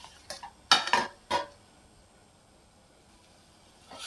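Spice paste being stirred into warm oil in a cooking pan for a Vidarbha-style sole vange vegetable dish: a few clinking spoon-on-pan scrapes close by, then a quiet stretch with a faint scrape at the end.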